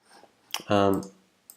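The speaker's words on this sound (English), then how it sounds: "and I'm clicking register." A computer mouse clicks a register button on a sign-up form: a few sharp, close clicks with a short voiced sound between them, then quiet.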